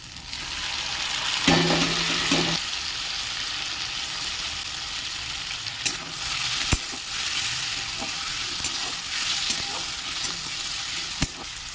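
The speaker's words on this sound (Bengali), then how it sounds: "পেঁয়াজটা হাফ ভেজে গেছে দিয়ে দেবো স্লাইস করা টমেটো" Half-fried onions sizzle steadily in hot oil in a pan while preparing a half egg curry, with a brief low hum early on and occasional scrapes and clinks of stirring over the continuous frying hiss.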